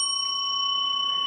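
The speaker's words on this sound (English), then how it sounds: "let's ring the bell" A single bell rings to end a segment of a talk show. It gives a clear, sustained metallic tone that holds steady at an even, fairly loud level with no speech over it.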